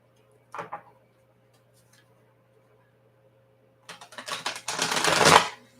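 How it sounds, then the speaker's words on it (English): Tarot cards being shuffled: one soft tap, a pause, then a quick fluttering riffle of cards that builds to a dense, crisp patter. "So I'm just going to give my deck a shuffle."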